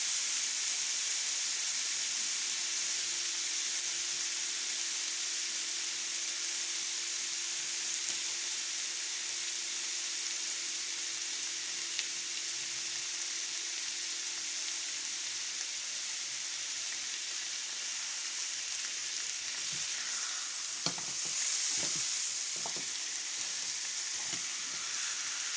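A roast sizzles steadily in a hot pan, a loud continuous frying hiss, then it is turned over with a few scraping knocks near the end.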